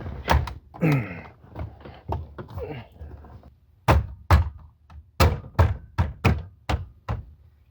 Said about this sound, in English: then we're gonna start pushing in the C-clips